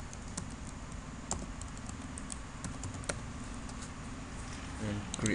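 Typing on a computer keyboard while setting up an Outlook 2016 macro, quick irregular key clicks close by over a low background hum.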